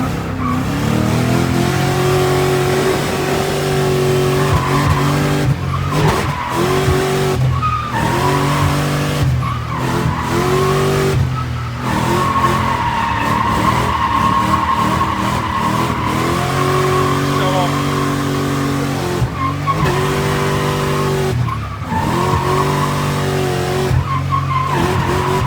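A JDM car drifting at a car show, its engine revving loud and steady with sustained tire squeal and skidding, interrupted by brief gaps as the throttle lifts and reapplies.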